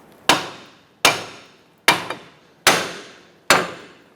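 A sledgehammer taps a steering knuckle on a 2004-2009 Mazda 3 while it is pried down to free a CV axle; five sharp metallic strikes ring out at a steady rhythm close by.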